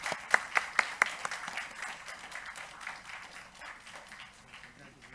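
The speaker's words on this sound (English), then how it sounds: "A big round of applause, please." Scattered applause from an audience at an award felicitation during a university valedictory session in Delhi, beginning with a few sharp claps and then thinning into a steady, moderate patter that fades toward the end.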